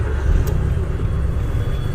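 A driving-school car pulls away in traffic with a low, steady engine rumble and road noise, close and continuous for a couple of seconds, no voices.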